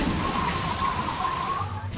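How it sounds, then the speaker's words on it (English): Heavy rain falls steadily as an aircraft approaches an airport in bad weather over Croatia, a dense, loud, unbroken wash of droplets with a faint steady tone underneath and no voices. "As they approach the airport, the rain isn't letting up."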